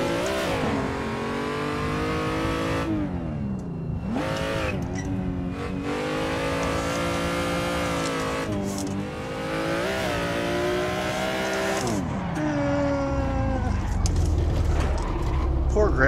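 An old, beat-up car revs hard while drifting amid tire smoke, its engine rising and falling loudly throughout with harsh tire squeal, as voices shout over the noise.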